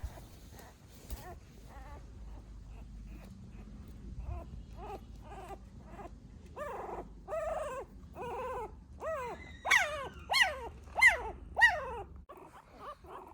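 Newborn puppies and their mother dog whimper and yelp in a series of thin, rising cries, sparse at first then quicker and louder toward the end, close by and with no talk.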